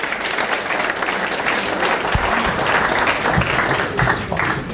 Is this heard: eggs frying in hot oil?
no